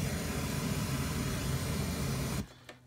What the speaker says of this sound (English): Here's the white noise.